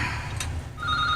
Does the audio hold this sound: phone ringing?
yes